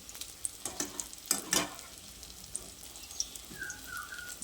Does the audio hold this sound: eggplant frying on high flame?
yes